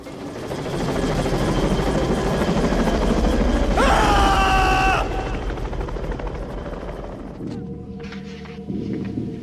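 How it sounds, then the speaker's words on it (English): A helicopter drones loud and close in an Ice Age film scene, its steady rumbling rotor wash filling the whole stretch while someone shouts briefly midway over it. "caveman Brendan Fraser shouts at a helicopter"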